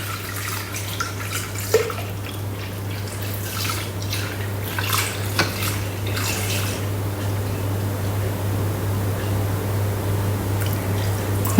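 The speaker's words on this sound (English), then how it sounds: "And then place 700 grams of full cream milk." Full cream milk poured into a Thermomix mixing bowl, a steady liquid stream with soft splashing that runs close and continuous throughout, over a constant low machine hum.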